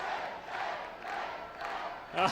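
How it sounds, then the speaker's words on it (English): A crowd at a martial arts weapons competition chants and shouts in repeated rhythmic waves, calling for a perfect score, moderately distant and filling the whole stretch. "They're calling for 10 in the crowd."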